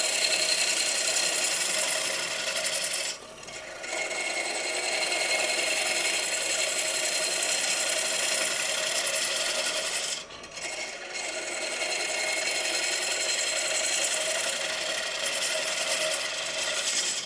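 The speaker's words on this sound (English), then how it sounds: "Now, as you can see, that I'm removing a lot of timber" A bowl gouge cuts wood on a lathe while a square wooden platter is turned, a steady raspy shaving sound that runs continuously with two brief dips, close and loud with no speech.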